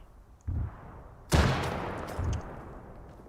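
Grenade explosions in the Arma 3 military video game: a short thump, then a louder broadband blast at mid-clip trailing into a rumbling decay, with a third lower thud after it.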